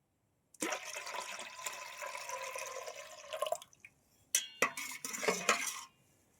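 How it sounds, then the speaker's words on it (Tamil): Tender coconut water pours in a steady stream into payasam for about three seconds, then stops, followed by a few close clinks and brief splashy bursts. "இளநீர் ஆட் பண்ண போறோம்."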